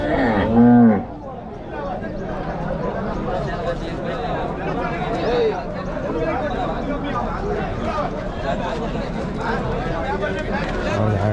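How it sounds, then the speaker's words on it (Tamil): A crowded cattle market in Vaniyambadi with a brief loud moo near the start, followed by a steady hubbub of people talking and milling about. "ஏகப்பட்ட மாடு நிற்கிதுங்க"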